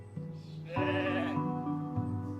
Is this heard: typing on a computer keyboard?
no